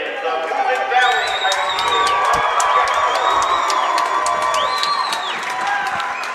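Crowd cheering in a high school gym at a girls basketball semifinal, a loud sustained roar with whoops and shouts from fans of both schools, while a commentator talks over it.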